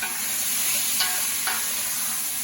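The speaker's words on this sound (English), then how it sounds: "Browning the meat in there" Beef browns in a big kettle for vegetable soup, giving a steady, loud sizzle with a few brief stirring scrapes near the close.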